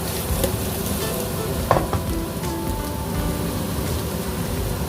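Boiled potatoes and carrots stir-fried in butter with salt and pepper give a steady, close sizzle, with occasional stirring scrapes and one brief clatter of a utensil against the pan.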